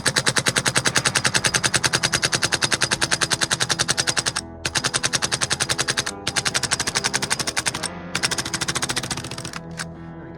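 A VFC V3 airsoft gas rifle fires rapid full-auto bursts to empty its gas in cold weather, loud and close, with a few short pauses before the final shots sputter out.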